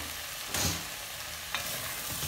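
Octopus pieces go into a hot frying pan with a sharp burst of sizzle, followed by steady frying hiss and a second stirring scrape, all without talk.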